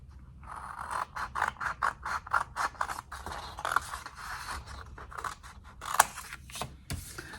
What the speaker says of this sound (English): So we're going to cut down this line here.